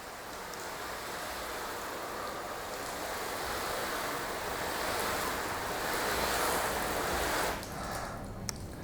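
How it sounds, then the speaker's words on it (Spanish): Water from a pressure washer lance runs without the pump engaged, rinsing a freshly coated Tesla Model S Plaid, a steady broad wash of splashing water with no voices. "No voy a darle agua a presión, pero sí agua de la lanza sin accionar la bomba."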